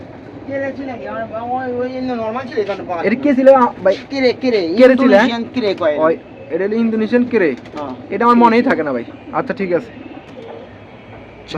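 Pigeons being offered for sale coo beneath loud, continuous talking close by, their calls largely buried under the voices.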